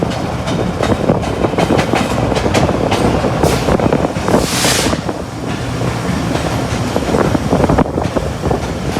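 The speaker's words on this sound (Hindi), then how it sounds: "ये थी हमारी ट्रेन की सिस्टर ट्रेन 8 डाउन तेज़गांव जो कि लाहौर रेलवे स्टेशन से अभी निकली" Tezgam Express passenger train hauled by locomotive 49042 pulling out of Lahore railway station, a loud steady rumble of wheels and carriages with rhythmic clickety-clack and a brief hiss near the middle, close by and continuous.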